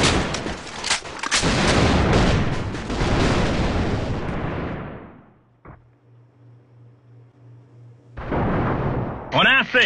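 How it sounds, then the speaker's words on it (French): A grenade blows up in a shooter video game with a loud, close blast that rumbles and fades over several seconds, then near silence before more game noise bursts back in. "grenade!"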